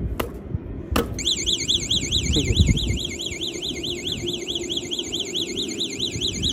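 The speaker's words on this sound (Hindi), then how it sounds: "अब थर्ड वार्निंग दिखाता हूँ" An electric bike's anti-theft alarm sounds its third warning: two sharp beeps, then a loud, continuous warbling wail that rises and falls rapidly. It stays close and steady over low handling noise, with a brief spoken word near the start.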